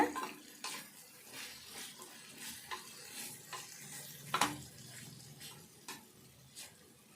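An onion and tomato curry stirred in a pan, quiet soft sizzling with repeated light spoon scrapes and taps at an irregular pace, close and faint.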